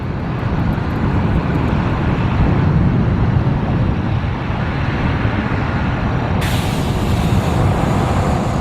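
A 1998 Volvo Olympian bus, registration R413 LHK, gives off a steady loud engine rumble. Near the end a sharp hiss of released air from its brakes cuts in.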